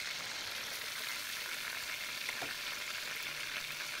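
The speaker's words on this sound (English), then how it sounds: "Then I add a bunch of garlic. A lot of garlic. A whole lot. Okay? And I just let that saute down." Garlic sautéing in melted butter for a crab sauce gives a steady, close sizzle and crackle throughout, with a brief stir or scrape partway and no talking.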